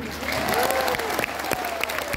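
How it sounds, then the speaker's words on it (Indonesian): An audience at a religious gathering in Hong Kong claps in a short burst of applause, moderately loud, with a voice briefly audible over it. "Tepuk tangan untuk Mbak Arifah."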